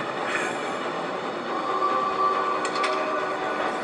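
A train rolling along in the Choo Choo Charles horror video game, a steady loud rumbling rattle of rail cars with a faint tonal whine and a couple of brief clanks, no talk.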